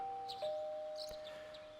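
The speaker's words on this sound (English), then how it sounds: "You hear the doorbell ringing." A two-note ding-dong doorbell chime from the video game Persona 4 Golden, sounding once as a clean electronic tone with a faint sustained ring, alone with no talk.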